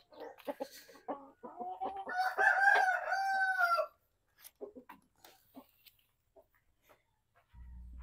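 A rooster crows loudly, followed by scattered soft clucks from hens nearby, with no talking.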